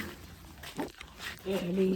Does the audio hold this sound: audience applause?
no